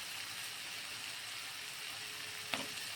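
Tomato pieces going into ginger-garlic paste and onion sizzling in a pan for prawn curry, a steady soft frying hiss with one brief clatter near the end.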